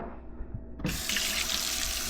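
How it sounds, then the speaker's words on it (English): Water gushes steadily from a kitchen tap into a sink as utensils are rinsed during sourdough making, a strong continuous splash that starts abruptly and runs to the end. "So again, I rinse everything right away."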